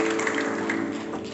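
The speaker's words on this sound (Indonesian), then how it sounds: "Tepuk tangan yang paling meriah buat Tuhan." A church congregation at a Tiberias Puri Indah sermon gives a loud, sustained round of clapping that fills the room without pause.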